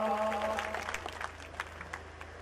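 An audience claps at a qawwali performance during the 2014 Mela Baba Murad Shah Ji, with a brief sustained musical tone at first, then sparse, faint, scattered hand claps that trail off.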